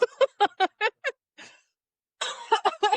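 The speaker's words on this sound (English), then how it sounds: "I got a cough" A run of short, sharp coughs in quick succession, then a brief pause before another burst of coughing, close and fairly loud.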